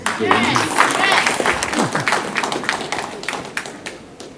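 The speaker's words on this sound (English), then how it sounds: "So give them a round of applause." Round of applause from an audience at a couples and singles glamour evening, loud, scattered claps at first that thin out and fade toward the end, with voices mixed in.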